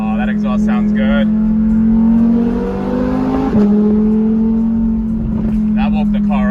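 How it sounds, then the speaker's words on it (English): A V10 supercar's exhaust revs through an underpass, a loud sustained engine drone rising and holding at close range from inside the car, with voices over it at the start and end. "Oh, that exhaust sounds good."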